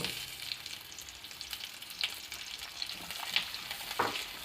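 Beef stir-fries in a pan with sesame oil, ginger and onion, giving a soft crackling sizzle broken by several sharp scraping stirs.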